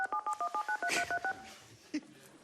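Telephone keypad tones dial a call to Sweden, a quick run of about a dozen evenly spaced beeps followed by quieter line noise and a single faint blip.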